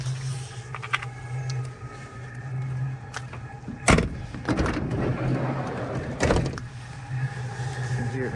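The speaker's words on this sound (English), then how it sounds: "diesel heater's been running at 22 degrees Celsius for a few hours now" A diesel parking heater runs inside a Bongo Friendee van set to 22 °C, giving a steady low hum with a faint rhythmic pulse throughout, broken by a few brief knocks and rustles nearby.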